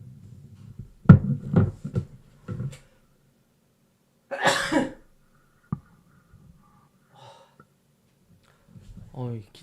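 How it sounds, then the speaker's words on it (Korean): A few short, sharp coughs burst out amid quiet, with soft speech-like sounds and faint clicks scattered around them. "기침이 너무 힘드네요"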